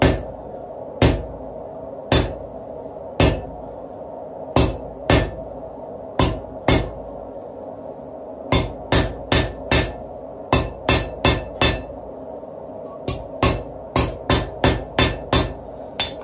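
A hand-forged nail is cut on a cut-off hardy by sharp hammer blows on hot iron. About two dozen close, ringing metallic strikes come singly at first, then in quick bursts of several, with no talk.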